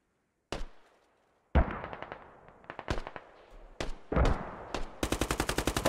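Gunfire in a squad shooter video game match: sharp single shots, then several bursts of rapid automatic fire ending in a fast rhythmic volley, close and loud, no talking.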